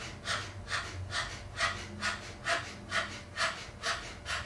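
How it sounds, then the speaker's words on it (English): A person pants rhythmically with the tongue out as Kundalini yoga Breath of Fire practice, about eight evenly spaced breathy huffs, close and moderately loud, with no speech. "stick your tongue out and pant."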